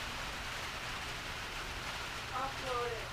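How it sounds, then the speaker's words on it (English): Rain falls outside an RV in a steady, soft hiss of drops, with a low rumble underneath and a brief faint tonal sound near the end. "So we're just looking outside and it's rainy."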